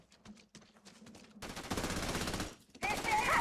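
Rapid gunfire from pirate ships in the space game Starfield, first scattered sharp shots, then a dense loud burst of automatic fire that drops out briefly and returns even harder.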